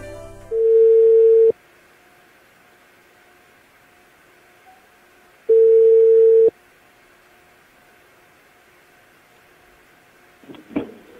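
Telephone ringing tone on an outgoing call, two long steady tones separated by a few seconds of quiet, followed by a brief clatter as the line picks up.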